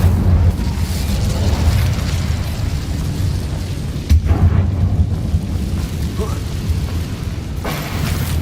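An Incendio fire spell blast in Hogwarts Legacy on PS5, cast inside a web-filled abandoned mine: a loud, sustained rumbling roar of flame with a couple of heavier bursts partway through.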